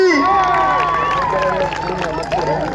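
A crowd cheers and applauds at a lively outdoor gathering where grandmothers dance, with shouts and whistling voices layered over steady, loud clapping that stays up close throughout.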